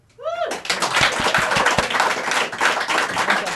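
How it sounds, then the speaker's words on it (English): Audience applause breaks out for Angela O'Hagan of the Scottish Women's Budgetary Group at a live referendum TV event, loud and dense, with a quick rising whistle or whoop at the start and sharp individual claps standing out. "So can we please have a large cheer for Angela?"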